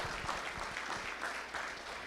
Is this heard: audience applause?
yes